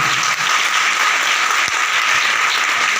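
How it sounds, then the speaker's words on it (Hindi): A church congregation claps loudly during a Palm Sunday sermon by a pastor; a thick, continuous roar of many hands fills the space at close range, steady and unbroken from start to finish. "खुदा के जलाल के लिए जोर से ताली"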